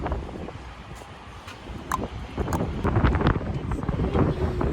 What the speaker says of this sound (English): It is like seriously windy out here.